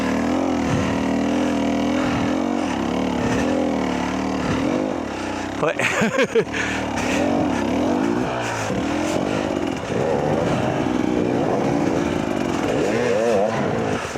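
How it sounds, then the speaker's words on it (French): An electric Arctic Leopard motorcycle whines and strains under load, its motor pitch rising and falling repeatedly while it fights for grip, with a sharp rattling burst midway and a brief spoken word. "Adhérence, moteur qui peine."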